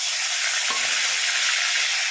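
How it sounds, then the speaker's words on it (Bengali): Nigella seeds and tomatoes fry in hot mustard oil for a Bengali fish curry, giving a loud, steady, close sizzle with a brief dip partway as the tomatoes go into the pan. "কালো জিরে ভাজা ভাজা হলে টমেটোগুলো দিয়ে দেবো।"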